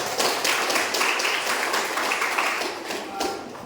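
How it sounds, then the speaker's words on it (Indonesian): Students in a university classroom clap for two presenting groups, a dense burst of many hands clapping close by, staying steady before easing off slightly near the end. "tepuk tangan untuk kelompok 1 dan kelompok 3"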